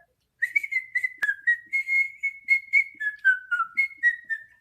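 A person whistles a lively tune up close, quick bouncing notes in a steady melody heard alone.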